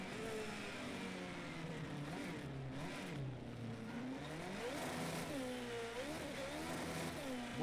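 A race car engine in the driving game Project CARS 2 roars continuously, revving up and down through gear changes with a steady, loud, close drone and no talking over it.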